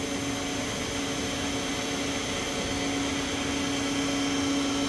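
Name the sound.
Haas VF-3 vertical machining center running at 4000 RPM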